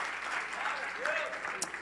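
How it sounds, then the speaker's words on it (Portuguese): A church congregation at a Christian conference gives a brief burst of applause for pastors and volunteers, a dense clapping wash with a voice heard faintly through it. "Você pode aplaudir por todos os pastores dessa igreja, líderes, obreiros, voluntários."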